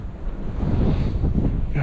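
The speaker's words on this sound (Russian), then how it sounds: "С гор дует ветер," Wind off the mountains near Yalta on the Crimean coast in February, gusting hard against the microphone in a loud low rumble with the sea faintly beneath.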